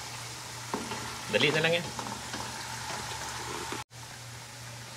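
Pork fat fries in oil for making pirurutong, giving a soft, steady sizzle with brief stirring clatter partway through, while a person speaks briefly nearby.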